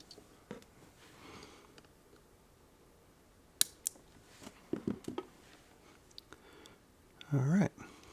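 Component legs are snipped off after soldering on a circuit board, a few sharp isolated clicks scattered across quiet background, with faint handling noise and a short louder rustle near the end.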